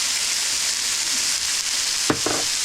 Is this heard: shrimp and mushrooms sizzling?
yes